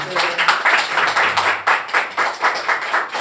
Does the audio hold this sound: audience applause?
yes